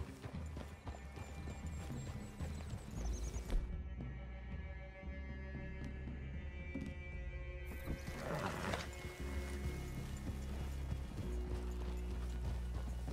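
Horse hooves clip-clop steadily in Red Dead Redemption 2, several riders moving at a walk on a trail. A horse whinnies once partway through, over a low ambient hum.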